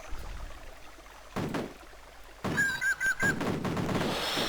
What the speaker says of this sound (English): There's more shots in the background, so it sounds like the area where my men are is being attacked